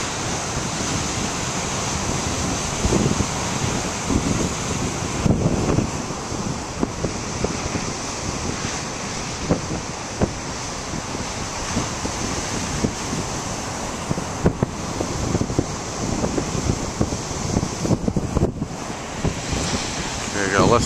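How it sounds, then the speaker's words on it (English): Big ocean waves break and surge onshore under strong gusting wind, a steady rushing roar with repeated swells and heavy microphone buffeting. Some faint talking sits beneath it. "Alright, the waves still come out."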